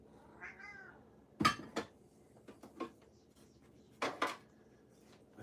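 A cat named Licorice lets out a short, wavering meow near the start. Sharp clinks of dishes and cutlery follow in separate bursts in a quiet indoor room.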